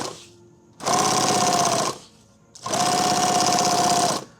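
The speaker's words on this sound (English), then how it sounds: "I'm just going to sew edge tape down it." A sewing machine stitches edge tape down a seam on a magazine bag, with two loud steady runs of buzzing motor, separated by a short pause.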